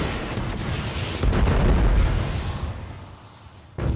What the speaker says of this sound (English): Oh my, I forgot also you can almost kill yourself with cluster bombs.